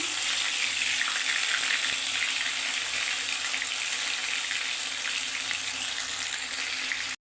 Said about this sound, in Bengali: এবারে আমি এক পিস বেগুনটা তেলে দিয়ে দিচ্ছি